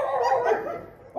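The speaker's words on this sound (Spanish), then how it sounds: "Se han puesto a ladrar." Dogs barking nearby in short yelping bursts, fairly loud and close, fading into quiet near the end before another sound starts.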